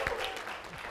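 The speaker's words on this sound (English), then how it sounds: "Let's give you another round of applause" An audience at a corporate core-values training session applauds, a brief, fairly faint burst of clapping heard at some distance.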